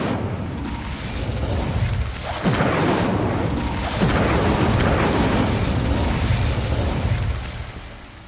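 An Incendio fire spell blast in Hogwarts Legacy: a sustained roaring, crackling rush with two sharper bursts partway through, loud and close, with no voices.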